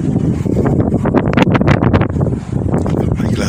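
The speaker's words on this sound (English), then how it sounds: "The wind is so strong" Strong seaside wind buffets the microphone in a steady, loud roar with gusty bursts, while a voice is faintly present underneath.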